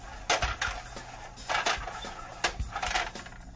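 Three cups slide and knock across a table as they are shuffled to hide a gem, a few sharp clacks and scrapes in quick irregular bursts, close and fairly quiet, with no talking.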